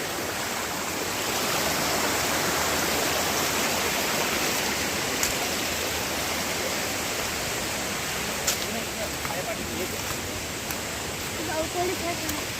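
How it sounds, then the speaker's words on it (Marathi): A monsoon-swollen village river rushes below, a dense, steady roar of flowing water that holds constant throughout with no voices heard. "ही आमची पावसाळ्यातली नदी"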